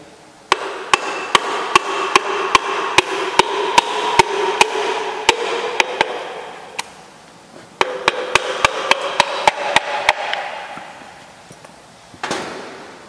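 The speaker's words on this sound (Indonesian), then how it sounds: "Setelah masuk, kita pukul dengan tangkai kayu." A wooden handle taps an engine part, a connecting rod assembly, into place in an automotive training workshop: sharp, evenly spaced knocks in two runs of about a dozen strikes each, close and loud over a faint background hum.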